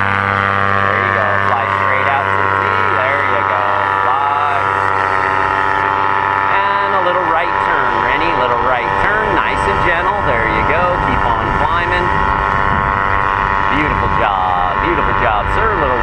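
A powered paraglider engine runs at throttle during a pilot's first flight, a loud continuous drone with a steady pitch that shifts slightly, while an instructor's voice talks over it throughout.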